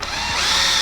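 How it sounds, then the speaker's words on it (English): A power drill fitted with a uni step bit bites into ABS plastic during amplifier wiring in a 2021 Ford Explorer, a close, loud, steady whirring grind that holds for under a second. "With a uni bit, I like to go halfway through the top and the other half through the bottom."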